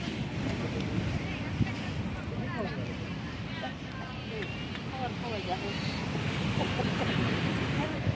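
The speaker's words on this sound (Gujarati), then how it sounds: "દરિયાનો અવાજ કેવો આવે મોજાનો" Sea waves wash steadily at Chowpatty beach in Porbandar, a continuous broad surf roar mixed with wind buffeting the microphone, while chatter and voices from the beach crowd carry on throughout.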